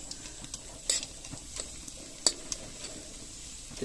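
Quiet, steady sizzle of bitter gourd frying in a pan, with a few light scrapes and taps of a utensil against the pan.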